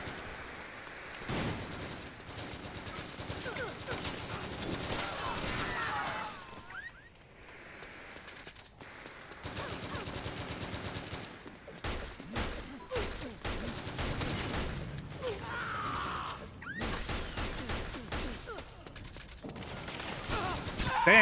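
Gunfire in the online shooter Metal Gear Online, repeated bursts of shots and impacts scattered across a busy in-game soundscape, moderately loud with brief lulls and no talk.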